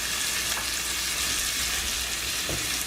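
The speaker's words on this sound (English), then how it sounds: "We're going to baste the steak." A steak sizzles steadily in a hot pan while pan juices are spooned over it. The frying hiss is loud and continuous, with small clinks and spatters.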